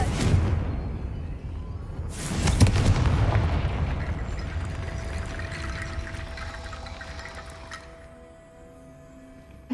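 A Confringo fire spell explodes in the video game Hogwarts Legacy: a sudden loud blast about two seconds in, then a rushing roar that fades, with a thin steady tone lingering beneath.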